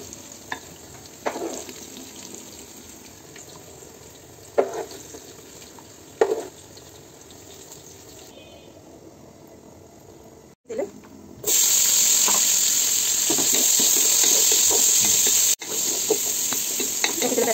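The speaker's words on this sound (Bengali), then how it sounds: "ওই একই তেলে আমি পেঁয়াজ বেরেস্তা করে নিচ্ছি" Onions sizzling and frying in hot oil in a home kitchen for biryani, a steady crackling hiss with occasional stirring knocks, growing louder and denser midway as more onions hit the oil.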